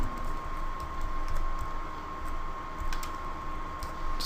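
Fingers tap quickly on a computer keyboard, typing out an IP range in a quiet office, the soft clicks fast and close over a faint steady hum.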